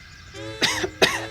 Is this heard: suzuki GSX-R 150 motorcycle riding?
no